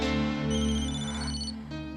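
A phone ringtone chimes in a short melodic burst over a steady low hum, with no voices.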